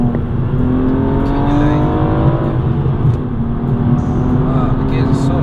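A BMW M235i with a manual gearbox and turbocharged engine pulls hard in third gear, its steady, smooth engine note rising continuously and loudly throughout.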